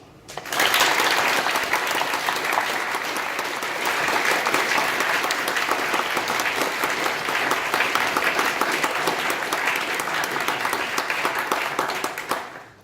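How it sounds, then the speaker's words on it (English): At the Student Academic Choice Awards ceremony, a large audience gives sustained applause. It swells quickly, holds at a full, even level for about twelve seconds, then fades out. "So please join me in giving a round of applause to Nick, Fran, Laura, the reps and everyone else who's contributed to the SACAs tonight."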